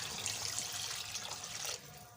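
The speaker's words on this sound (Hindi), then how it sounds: "अब इसमें हमने पानी डाल देना है" Water poured into thick malai kofta gravy in a cooking pot, a steady splashing pour running unbroken for about two seconds and easing off at the end, with no talk over it.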